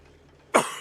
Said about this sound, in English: Hack, cough, wheeze